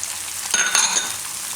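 Tomatoes tip into a pan of frying poha with vegetables, bringing a brief burst of sizzling and stirring that rises mid-clip over a steady background crackle, close and moderately loud, with no talking.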